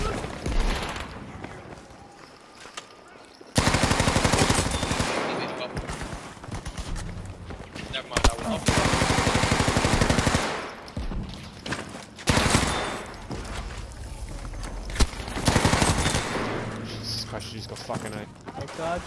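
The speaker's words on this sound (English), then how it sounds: "fine shooting, boss" Machine gun fire in the video game Frontlines on the Iwo Jima map, using a Type 100/MP34, comes as repeated loud bursts and sustained volleys with gaps between them, under players' voices talking.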